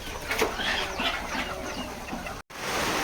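Several chickens cluck close by in a poultry shed on a rainy day, short overlapping calls over a steady background hiss, with no talking.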